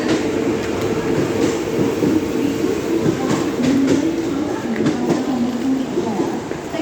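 A crowded Mumbai fast local train pulls out of Dadar station with a steady, loud rumble and rattling wheels close by, and voices mix into the din.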